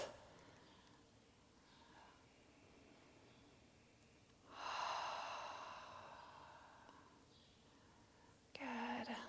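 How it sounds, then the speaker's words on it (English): Slow, deep breathing during a prenatal yoga session, with a long audible exhale swelling from about the middle and fading gradually, followed by a quieter breath and a brief vocal sound at the end, fairly close and soft. "We'll take 2 more breaths."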